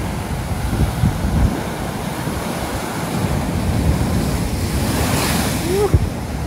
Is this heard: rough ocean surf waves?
yes